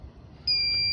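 A gas detector beeps while calibrating: after a faint low hum, a loud, sustained electronic tone starts halfway through and holds steady to the end.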